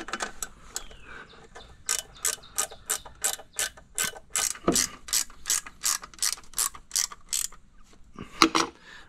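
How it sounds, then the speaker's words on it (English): A ratchet wrench tightens a bolt on a Suzuki outboard motor, making a long series of crisp clicking bursts at an even pace, close and loud, with short pauses between strokes. "We'll put our first bolt in. We'll get our ratchet wrench."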